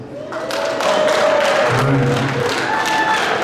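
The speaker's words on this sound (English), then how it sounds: "If you're divorced, clap for yourselves." Divorced audience members at a comedy club stand-up show in Bend, Oregon, break into loud, sustained applause that builds quickly and holds steady, with scattered whoops and murmured crowd voices mixed in.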